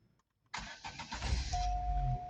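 A 2006 Opel car engine cranks and catches after a moment of silence, then settles into a steady, fairly loud low idle.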